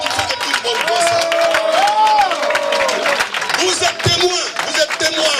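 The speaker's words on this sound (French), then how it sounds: "Levez-vous, et on applaudit pour que tout le monde voit ça." Standing crowd at an inauguration ceremony claps and cheers in a sustained burst, with a voice talking loudly over the applause throughout.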